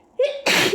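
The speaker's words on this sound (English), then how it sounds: "I was gonna say I can hold them a little bit easier" A single sharp sneeze bursts out after a strained, held-back breath. It is loud and close, and a brief nasal hum comes before the explosive release.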